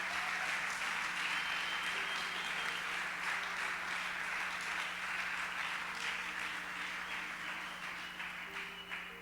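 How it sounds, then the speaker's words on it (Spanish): A church congregation breaks into sustained applause during a sermon, a dense, steady wash of clapping that fills the room at even loudness and tapers slightly near the end. "Le da un aplauso a la palabra de Dios."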